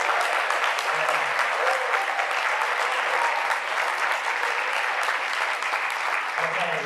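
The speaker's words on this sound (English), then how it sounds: "Let's give a round of applause for the" An audience at a conference main stage claps continuously in dense, even applause for about seven seconds, loud and steady without a break.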